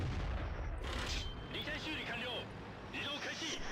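Tank cannon fire in the World of Tanks game, an AMX CDC battle, with booming shots and rumbling blasts sitting under near-constant talking throughout.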